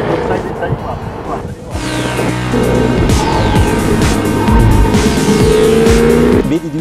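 A Jaguar F-Type R on the Monza circuit brakes hard and corners, its engine roaring loud and close with rising and falling revs and tire squeal, while a passenger shouts driving instructions over it.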